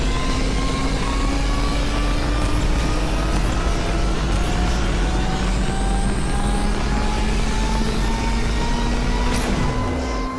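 Sports car engines roaring through an Asphalt 8 racing game, a loud, steady drone with rising and falling engine pitch lines throughout and no talk.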